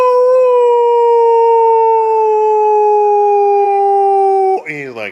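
A dog lets out one long, loud, steady howl that holds its pitch for over four seconds, close to the listener, then breaks off into shorter wavering yelps at the end.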